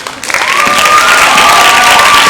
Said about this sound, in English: We have another cheer for both of them.